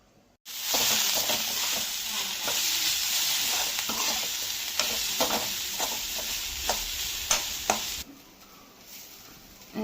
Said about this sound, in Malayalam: അരച്ചു മാറ്റി വെച്ചിരിക്കുന്ന അരപ്പുകൾ ഇതിലേക്ക് ഇട്ട് നല്ലതായിട്ട് ഇളക്കി കൊടുക്കുന്നു